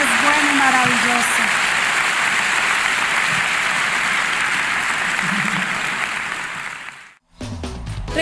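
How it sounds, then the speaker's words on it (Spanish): Church congregation applauding, a dense, steady wash of clapping that fills the space for several seconds, with a voice briefly under it, then cutting off abruptly near the end. "Da un aplauso a Dios."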